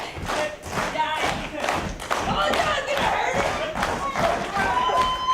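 A pro wrestling crowd cheering for Gisele Shaw claps in a steady rhythmic beat, with shouts and voices mixed through a lively arena roar and a commentator talking over it.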